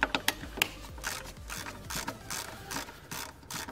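A ratchet wrench loosens throttle body bolts on a Porsche Panamera, giving a run of quick close clicking bursts with sharp metallic ticks at the start, heard alone with no talking.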